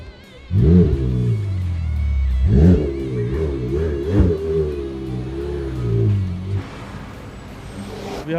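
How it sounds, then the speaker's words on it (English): A McLaren 720S revs up loudly and close, with repeated sharp climbs in engine pitch and falling swoops over a steady idle rumble, ending in a rougher, noisier stretch. "Behind me, we got this McLaren 720S right now, going off to the dealer."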